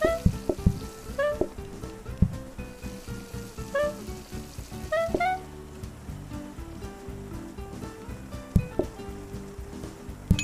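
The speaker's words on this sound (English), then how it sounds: "Sizzle sizzle." Frying food hisses continuously in the Plate Up kitchen, with rapid clatter of utensils and bright chime-like pings recurring through a busy, layered game soundscape.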